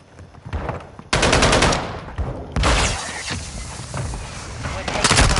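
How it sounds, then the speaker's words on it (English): Loud bursts of automatic gunfire and heavy explosive impacts crash in quick succession during a multiplayer shooter match as a friendly mortar strike lands, dense and close with brief gaps between volleys. "Friendly mortar strike on the way."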